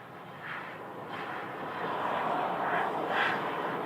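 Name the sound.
Airbus A321neo airliner jet engines at Phoenix Sky Harbor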